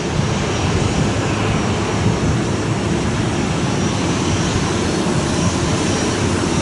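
Jet airliners take off and land at Chubu Centrair International Airport, heard from the open sky deck as a loud, steady engine roar that fills the whole stretch without pause or voices.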